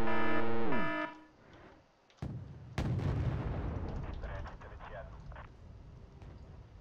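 Gunfire in a multiplayer video game match on a paddy field map: a sharp blast followed by a rumbling barrage of heavy, distorted shots, loud and close, with a voice heard early on.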